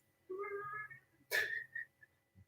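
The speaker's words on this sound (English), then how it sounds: "my kitty is meowing." Pet cat meowing indoors, two short close meows followed by a sharper squeaky cry and a faint trailing sound, quiet overall.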